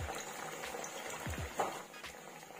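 Malabar spinach (poi leaf) pakoras frying in hot oil, a steady close bubbling sizzle that runs throughout with a few brief low bumps and no speech.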